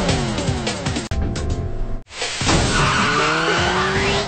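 Car tires skid loudly and squeal in long screeches during a chase, broken by two brief cuts, with engine roar underneath.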